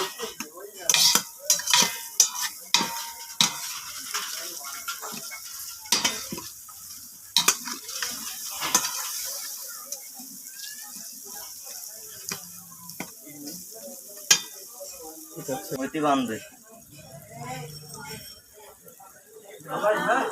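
Spicy onions frying for tomato khichuri sizzle softly in a pan while a spoon stirs and scrapes in irregular clinks, and someone speaks over the cooking.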